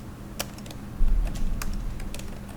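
Keystrokes on a computer keyboard while entering text in AutoCAD, a few sharp separate clicks at a moderate, uneven pace with quiet gaps between them, close by and fairly soft.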